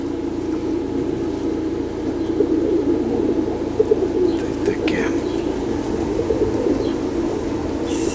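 Pigeons coo in low, throaty murmurs in fine weather, with males courting and chasing, amid outdoor background noise and someone talking in Ukrainian nearby.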